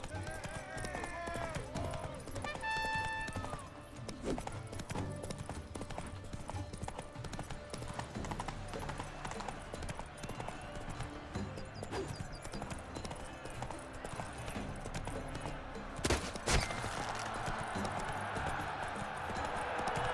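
Geralt's horse Roach gallops through a race in The Witcher 3: Blood and Wine, hooves pounding in a fast, steady clip-clop for the full twenty seconds under busy ambient game noise, with a short chiming tone early on and a sharp burst near the end.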